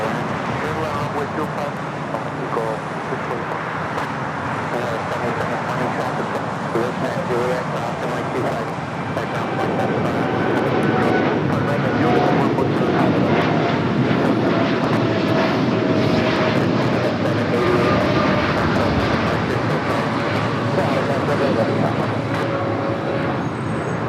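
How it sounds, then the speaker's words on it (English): An Air Canada Boeing 787-8 Dreamliner takes off from runway 25 right at LAX, a long, steady jet roar that swells around the middle and keeps rumbling, with commentary spoken over it. "788 taking off to Toronto on the 787-8 Dreamliner."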